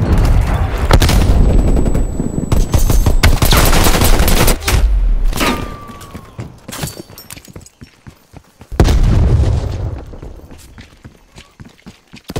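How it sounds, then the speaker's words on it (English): Dense gunfire and explosive bursts from the Call of Duty Cold War beta video game after a grenade throw, with loud rapid volleys, a pause with footsteps and scattered shots, then another heavy burst, all close and without talk. "Throwing grenade."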